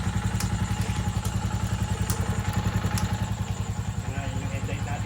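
A Rusi Macho 175 motorcycle engine runs steadily close by, a loud, even low putter with fast regular firing pulses and light clatter from start to end, no voices over it.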